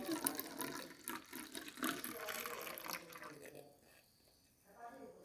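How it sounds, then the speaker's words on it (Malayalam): Hot water pours into a coffee mix for cold coffee, a close, splashing liquid stream that runs for a few seconds before tapering off, with a voice speaking over it. "അപ്പോൾ ഫ്രണ്ട്സ്, നമുക്ക് ഇതിനകത്ത് ചൂടുവെള്ളം ആഡ് ചെയ്ത് കൊടുക്കാം."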